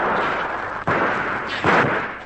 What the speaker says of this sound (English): Those shots are going close.